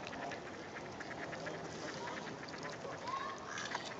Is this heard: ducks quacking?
yes